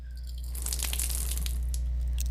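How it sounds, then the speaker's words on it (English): Water rushing and gurgling as it drains out through an opened valve in a video game, a steady flow with splashy bursts over a low constant hum. "When I open the valve, I will drain the water until all of the water has been removed."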